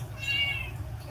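A shop cat gives a single drawn-out meow in a workshop, close and clear over a low steady hum.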